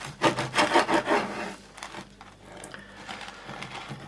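A knife saws through a baked pear wrapped in a pastry cage, giving several rhythmic crunchy rasping strokes up close, then softer scraping as the blade works through.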